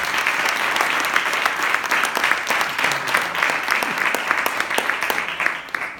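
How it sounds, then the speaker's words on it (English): Warm applause from a seminar audience for a language trainer at a human rights inclusion event, dense steady clapping from a modest crowd holding level for several seconds, with faint voices underneath. "Applause for Maria."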